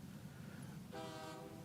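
Train passing in the video game The Stillness of the Wind, a faint rumble under ambience that shifts midway into a sustained, tonal horn-like drone.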